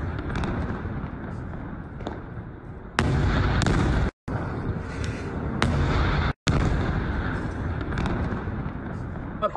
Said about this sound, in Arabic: شوفوه صاروخ الثالث